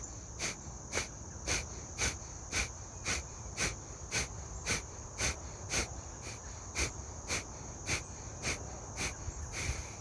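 Alternate nostril breathing, with nasal inhales and exhales as airy pulses in a steady, regular rhythm against a faint constant background tone, close and quiet with no talking.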